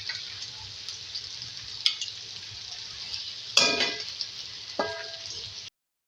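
Potatoes and okra fry steadily in a pan, a continuous close sizzle broken by a few louder clattering stirs of a spoon against the metal, with no one speaking.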